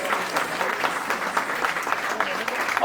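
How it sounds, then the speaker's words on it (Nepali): An audience applauding a performer at an international music festival: sustained, fairly even crowd clapping throughout. "यसै लागि ताली चाहिन्छ कलाकारलाई।"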